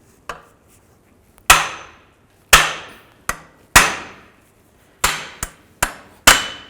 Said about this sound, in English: I'm going to try to support the shield with a screw jack and hammer the bolts down